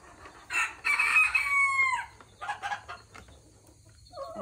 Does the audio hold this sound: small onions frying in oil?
no